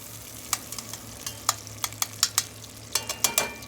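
Bacon frying in a pot crackles under a steady low sizzle, with a run of sharp pops and spatters that grow busier toward the end, close and fairly loud.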